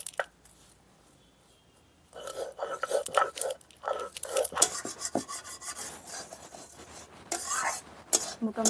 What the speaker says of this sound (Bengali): মশলাগুলো এখন বেটে নেব